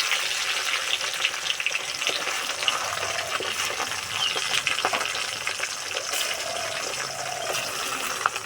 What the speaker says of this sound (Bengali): আমি প্রথমে ডিমগুলো ভেজে নেব